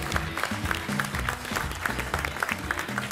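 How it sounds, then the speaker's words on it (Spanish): A television studio audience applauds during a cooking competition show, dense even clapping with a thin musical tone underneath, loud and sustained throughout without speech. "Recibimos con un fuerte aplauso a Soledad Fandiño."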